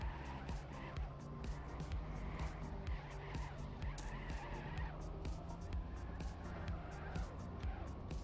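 Race cars in an endurance racing video game roar and skid, tires squealing in repeated bursts over steady engine noise, moderately loud and continuous throughout.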